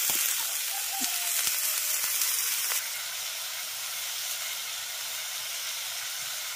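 Potatoes and ivy gourd hit a hot pan with a loud burst of sizzling that settles into a steady, quieter hiss of frying, no voices.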